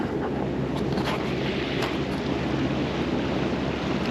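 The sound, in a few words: wind noise on boat at sea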